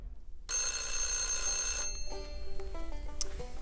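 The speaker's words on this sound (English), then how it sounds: "This phone is ringing all the time." A telephone bell rings loud and near in one sustained electric trill, then cuts off and gives way to brief, lower tonal chimes.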